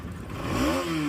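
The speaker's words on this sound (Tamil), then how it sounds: "வண்டி ரேஸ் பண்ற பாருங்க." Modified motorcycle engine rising from a low idle rumble into a short rev, the pitch sweeping upward then holding a strong tone, close and fairly loud with no talk.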